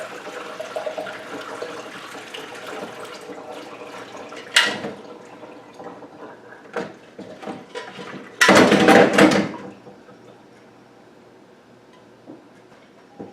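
Water from a pot of boiled eggs pours out in one loud, brief rushing splash, with quieter kitchen clatter and trickling before and after.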